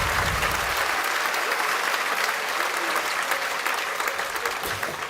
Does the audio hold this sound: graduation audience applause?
yes